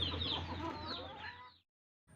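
Chickens foraging and gathered together in the late afternoon cluck in a busy, close chorus of overlapping calls for about a second and a half before falling silent.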